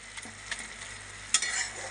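Red amaranth greens fry in a wok with garlic, a steady close sizzle broken by scraping stirs and one sharp clatter partway through, with no voices.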